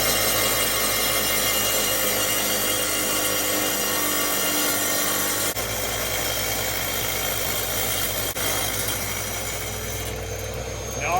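A Parkside wet tile saw from LIDL cuts through an old roofing tile, giving a steady, loud motor drone with grinding throughout, briefly dipping twice, with no talking.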